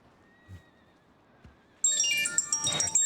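A horse in a video game whinnies loudly with a shrill, wavering neigh after a couple of soft thuds, brief and close.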